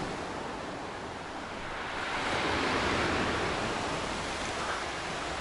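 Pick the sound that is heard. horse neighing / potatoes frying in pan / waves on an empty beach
waves on an empty beach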